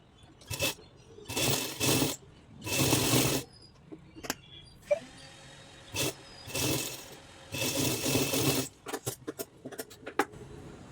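Sewing machine stitching a lining onto the front piece of a blouse, running in several bursts of steady whirring separated by short pauses and small handling clicks.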